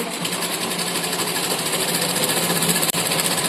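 A sewing machine runs steadily while stitching a bag cut from cement sacks, giving a fast continuous mechanical whir with dense rapid clatter and one brief break near the end, close and loud, with no talking.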